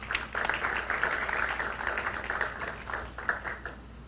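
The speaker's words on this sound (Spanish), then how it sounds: "a quien también recibimos con un voto de aplausos" Audience applause at a university conference on Peru's 1993 Constitution, a crowd clapping steadily for several seconds before tapering off, no talk over it.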